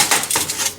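A utensil scrapes and clinks against a pot as food is stirred for a Mardi Gras Fat Tuesday meal, a few quick close metallic strokes in under a second, with no talk.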